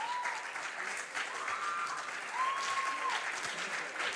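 An audience at a national junior science and maths quiz claps steadily for departing and arriving contestants. The applause is even and moderately loud throughout, with a faint tonal whistle running under it.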